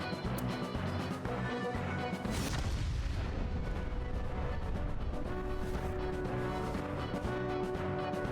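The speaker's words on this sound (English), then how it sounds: "Sometime later, the burning fuse inside the body reaches the explosives." Explosives inside a body blow up in the game AI: The Somnium Files Nirvana Initiative, making a loud, dense crash and boom that surges about a third of the way in, over constant, heavy game sound and music.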